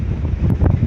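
Strong seaside wind buffets the microphone with loud, low rumbling gusts, while surf rolls in the background.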